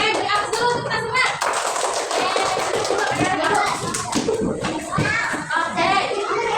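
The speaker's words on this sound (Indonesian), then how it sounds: "Beri aplaus dulu untuk kita semua" A class of children applauds with lively, sustained clapping and scattered taps, mixed with excited kids' voices and chatter throughout.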